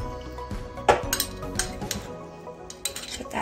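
A metal spoon clinks and scrapes against a bowl while a tablespoon of butter goes into cauliflower mash, with a few distinct sharp taps among softer scraping, close and fairly quiet.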